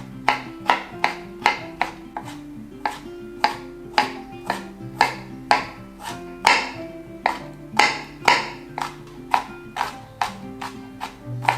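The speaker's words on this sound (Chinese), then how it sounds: "我们把老姜跟辣椒都切成末状" Aged ginger and chili peppers are minced with a knife on a cutting board in a vegan home kitchen, giving steady, close, evenly spaced sharp chops that repeat quickly for about eleven seconds with no talking.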